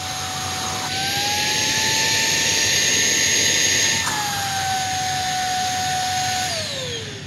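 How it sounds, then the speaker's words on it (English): A vacuum motor runs steadily at low speed with maximum suction, giving a loud, continuous whine that holds throughout and shifts pitch briefly near the middle and again toward the end. "Maximum motor suction. Low speed."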